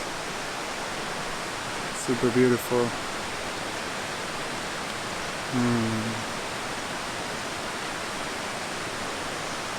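Steady broadband rush of a flowing river fills the whole clip, with a short spoken remark over the water partway through.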